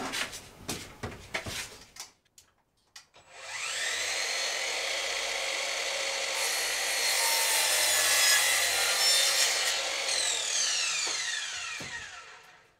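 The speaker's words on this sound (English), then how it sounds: "So it means I just need to cut about 1 inch or so off there, sort of 25mm" A handsaw cutting about 25mm off a tongue and groove wood panel board while fitting panelling in a DIY narrowboat, heard as a close, steady run of rasping strokes for several seconds after a few sharp knocks.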